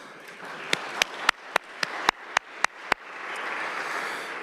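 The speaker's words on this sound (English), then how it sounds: "Let's give her a round of applause if we could" Audience applause at a council meeting for an honoured staff member: about nine sharp, separate claps ring out close by, then give way to a softer, steady wash of clapping from the room.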